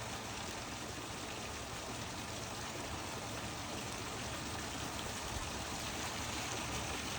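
Water pours steadily down a backyard pool slide, a constant rushing hiss with no pauses, fairly quiet and close, with nothing else over it.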